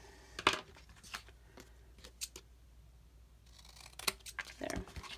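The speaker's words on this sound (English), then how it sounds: "So we will just cut it right there." Scissors cut through paper or card in a series of quiet, irregular snips, a few isolated and a denser cluster near the end, against a low room background.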